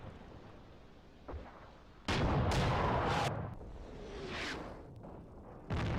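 Loud artillery fire in the WWII tactics game Graviteam: Fateful Strike, with several heavy booming blasts in quick succession and rolling rumble between them, a quieter thud early on and another sharp blast at the end.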